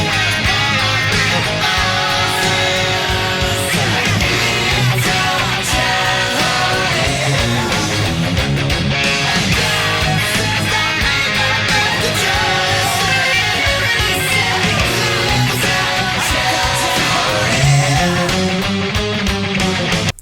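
Second chorus of a song played on guitar, a dense, loud, continuous full-band rock texture with busy rhythmic strumming throughout and no talking.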